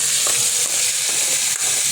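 Chicken and spices frying together in a pan, a dense, continuous close sizzle with light stirring scrapes.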